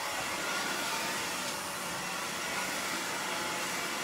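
A hair dryer blows close and steady, heating the ends of long layered hair wrapped over a round brush, a continuous airy roar with no talk.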